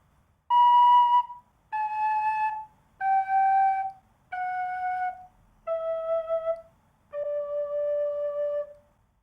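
Six clear tin whistle notes in the lower octave played one after another, each held about a second, stepping steadily downward in pitch, close and solo.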